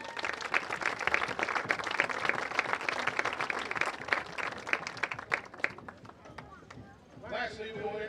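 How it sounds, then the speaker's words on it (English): Crowd in the stands at a high school football game applauding girls cross-country seniors, brisk uneven clapping with a few loud close claps, tapering off before a voice comes in at the end. "Round of applause for our girls cross-country seniors."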